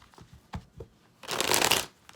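A deck of tarot cards is shuffled, with a few soft taps and handling sounds followed by a dense riffling burst, close and alone without talk.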